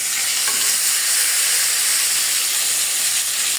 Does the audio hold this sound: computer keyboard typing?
no